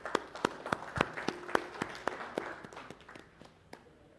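Sparse applause in a public speaking workshop as a volunteer comes forward, a handful of distinct, separated claps in an uneven rhythm that gradually thin and soften.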